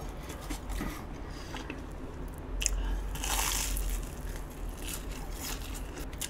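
A crunchy Frank Seoul hot dog is bitten and chewed up close, with loud, crisp crunches and steady chewing throughout and no talking.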